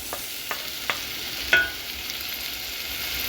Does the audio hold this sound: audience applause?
no